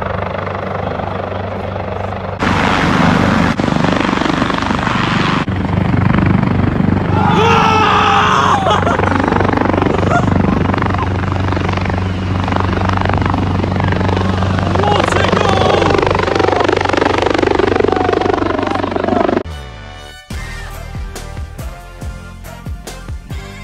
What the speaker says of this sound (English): Shit, we've got a helicopter coming in.